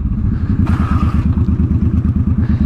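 A 705 bobber motorcycle rumbles loud and close as it is ridden, its exhaust beating in a fast, even pulse, with a short burst of wind noise partway through.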